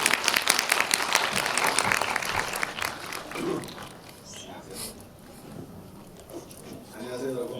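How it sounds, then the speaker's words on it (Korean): Audience applause welcomes a lecturer at a cinema talk event, loud dense clapping for about three seconds that then dies away into room murmur and a brief voice. "큰 박수로 맞이해주세요."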